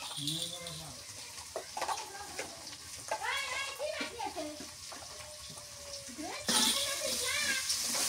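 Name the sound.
frying spices with salt, turmeric and chili powder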